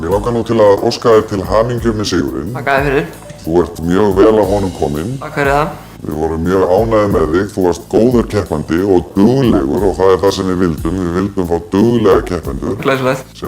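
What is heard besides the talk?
No everyday noises stand out.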